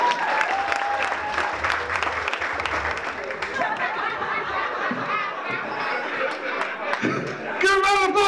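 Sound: audience applause

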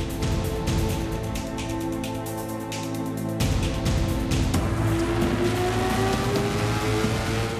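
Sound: Lamborghini Aventador 6.5 litre V12 engine, car driving

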